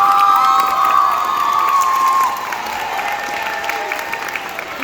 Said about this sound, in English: One more round of applause for Kaelie.